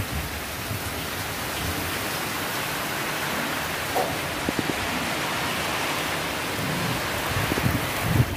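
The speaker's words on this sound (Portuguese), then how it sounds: "Tá caindo é muita água." Heavy rain pours steadily onto a farm with cornfields and a banana plot, a dense, continuous roar of water with no break and no voices.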